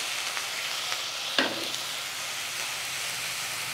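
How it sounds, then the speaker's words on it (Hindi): Ginger garlic paste fries in hot oil in a pot for chicken karahi. A steady, moderately loud sizzle continues throughout, with one brief clink of a utensil stirring it. "इसको अदरक लहसन को डालकर आप अच्छे से दो मिनट बस आप इसे फ्राई कर लीजिए"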